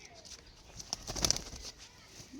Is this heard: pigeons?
yes